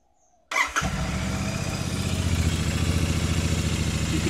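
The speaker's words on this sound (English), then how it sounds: "it's just time to run the bike again to get that circulating through" A Royal Enfield Super Meteor 650 motorcycle engine fires up after an oil and filter change and settles into a steady, loud, close idle with an even, throbbing rhythm.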